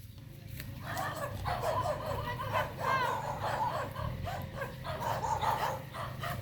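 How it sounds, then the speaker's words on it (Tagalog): A dog barks outdoors in a Filipino neighborhood street near a milk tea shop, its barks mixed into steady background noise and distant chatter, moderately near but not loud. "May aso dyan tong."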